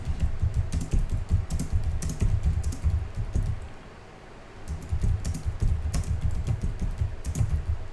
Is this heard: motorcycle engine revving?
no